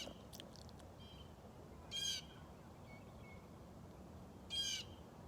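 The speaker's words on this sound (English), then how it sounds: "Hear the birds." Outdoors on a mild daytime, a few birds call faintly in the distance, scattered short chirps and two brief bursts of song over a steady low background hiss.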